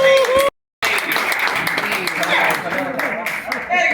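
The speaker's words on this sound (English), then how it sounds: "Give an alligator some applause." A crowd claps and cheers steadily after a brief silence at an alligator show in the Florida Everglades, the applause loud and sustained with voices calling out over it.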